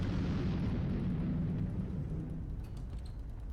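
A nuclear missile launching in the video game Highfleet, a broad roaring blast that starts strong and slowly fades, fairly quiet in level and with no voices over it.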